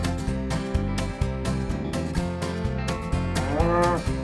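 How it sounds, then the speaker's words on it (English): A cow lets out a drawn-out moo near the end, heard over a bouncy looping music bed with a regular beat. "Cow."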